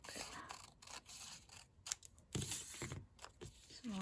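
Scissors snipping through junk journal paper pages, a run of close, crisp cuts and rustles at a steady working pace, with no talking.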